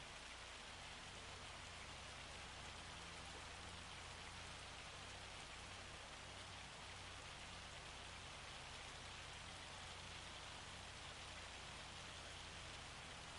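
Steady rainfall in Farming Simulator 25, a dense, even hiss of drops that carries on unbroken from start to finish with no voices over it.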